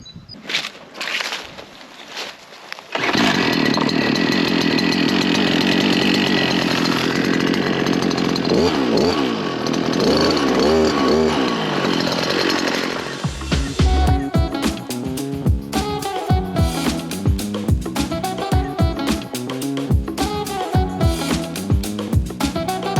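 A Stihl chainsaw cuts wood, running loud and continuous for about ten seconds after a brief quieter start, then gives way to music.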